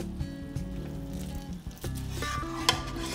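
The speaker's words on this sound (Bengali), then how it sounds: "এখন চাল নরম, তাই খুব হালকা হাতে খুন্তি চালাতে হবে।" Rice and fish head cooking together in a pot for muri ghonto, stirred gently with a spatula; soft sizzling and scraping with a few light metallic clinks, close by.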